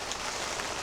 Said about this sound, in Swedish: Hör ni vad det regnar, Holly?